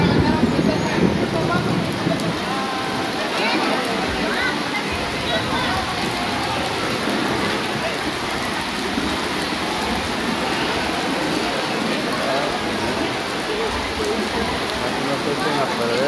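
Heavy rain pours in a hot-weather downpour, a dense, constant hiss of drops hitting surfaces that fills the whole stretch, with voices speaking faintly beneath it.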